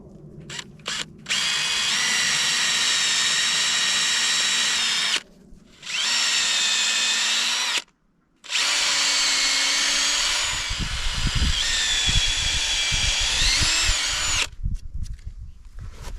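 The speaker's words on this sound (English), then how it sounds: "I'm gonna mark them and we'll pre-drill them" A power drill pre-drills holes for mounting sign brackets in several long whining bursts, steady high-pitched motor tone between short pauses, with clattering handling noise toward the end.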